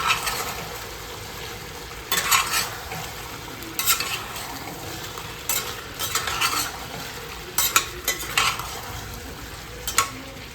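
Potatoes tipped into a pan of frying kasha chicken curry and stirred, with loud scraping strokes in bursts over a continuous low sizzle.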